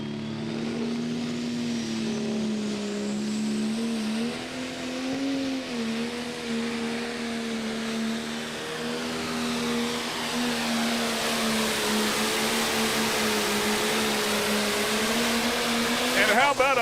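Pro stock pulling tractor at a 2024 Pro Pulling event, its engine roaring loud and steady through a full pull with a rising, droning whine, building to a harsher burst at the end.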